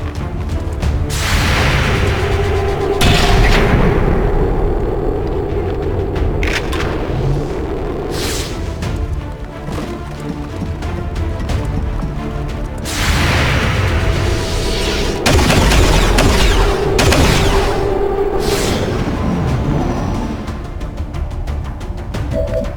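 Grenade blasts in the tactical game XCOM 2 go off as loud booming explosions with broadband crackle, two main bursts several seconds apart over a steady rumbling game backdrop.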